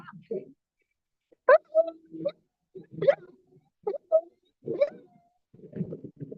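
A person imitates a puppy yelping after being hit by a stone, giving a series of short, high whimpering cries separated by brief pauses.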